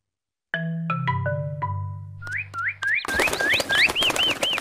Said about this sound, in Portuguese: Olha, os passarinhos voltaram.